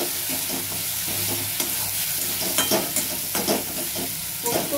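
A paste of poppy seeds and cashews frying in a pan with paneer korma base sizzles loudly and continuously up close, with repeated stirring scrapes of a spatula throughout.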